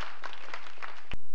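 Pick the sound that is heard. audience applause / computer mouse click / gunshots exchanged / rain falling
audience applause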